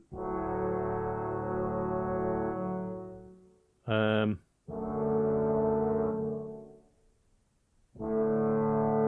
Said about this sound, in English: Trombone, bass trombone.